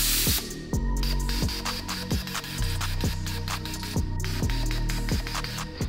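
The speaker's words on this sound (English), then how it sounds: "Get this compressor fired up." An air compressor supplying a powder coat gun runs loudly and steadily, its motor pulsing in a quick, regular chugging rhythm throughout, close to the microphone with no talking.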